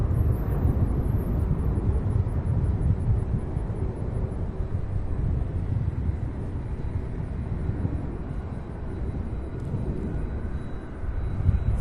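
An airliner takes off from runway 18 Center at Cincinnati's CVG airport, a steady, distant jet roar that holds its level throughout with no voices over it.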